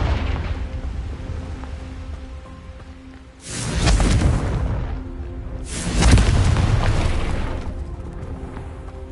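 Two booming blasts from the Confringo fire spell in the Hogwarts Legacy video game, one near 3.5 seconds and one near 6 seconds, each a broad rumbling burst that decays slowly over a low background hum, with no talking.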